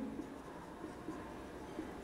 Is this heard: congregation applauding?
no